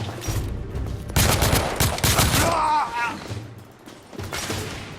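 Rapid bursts of gunfire in the video game The Order: 1886, dense volleys and single shots over a few seconds with shouted voices mixed in.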